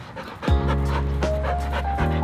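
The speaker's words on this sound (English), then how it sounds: "Have you guys ever seen a three-legged dog run?" A three-legged dog runs and pants hard nearby, quick rhythmic breaths continuing steadily through the moment.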